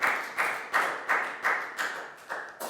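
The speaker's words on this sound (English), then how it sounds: "Big round of applause for Nadia." A class claps for a student in a school lesson: about eight evenly spaced, rhythmic claps, fairly close, with no talk over them.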